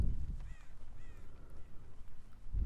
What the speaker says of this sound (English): The crows are an interesting mechanic.